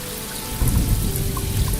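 Steady rain pattering down, with a dense low rumble and scattered drops, fairly close and moderately loud, no voices.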